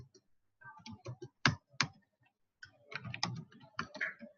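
Commands typed on a computer keyboard while configuring a Cisco Nexus switch: close, irregular bursts of crisp key clicks separated by brief pauses, with no other sound.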